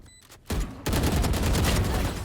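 Gunfire in the tactical shooter game Valorant: a loud, dense burst of rapid shots kicks in after a quiet start and continues as sustained close-range firing to the end.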